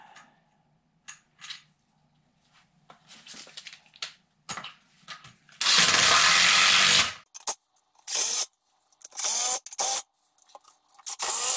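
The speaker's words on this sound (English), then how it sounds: "Okay, I'm drilling the hole," A power drill bores a hole for a telescoping sailboat mast crutch, with one long loud burst and several shorter bursts amid clicks and handling noises, close by and with no talk.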